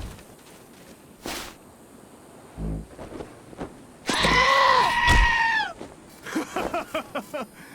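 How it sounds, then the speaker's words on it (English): A goat in the post-apocalyptic game Wasteland 2 headbutts a character: a thud, then a loud wavering bleat-like scream, followed by a string of short clattering knocks and yelps. "I just wanted the goat to hit you in the ass."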